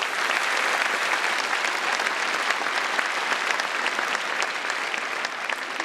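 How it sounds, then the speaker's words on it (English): A live audience at a startup pitch competition applauds a contestant, dense, even clapping from a sizable crowd holding steady throughout without pause. "A round of applause for Farnoud."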